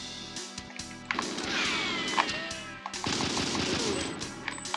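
Pistol gunfire in the Nintendo 64 game GoldenEye 007, with bursts of sharp shots and clattering impacts over a steady background, in two main volleys.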